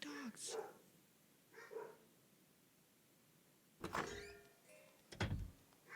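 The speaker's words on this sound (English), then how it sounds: "those fucking dogs." Dogs bark nearby in short, sharp bursts. Two clusters come late, with softer yelps and a faint voice earlier over a quiet room background.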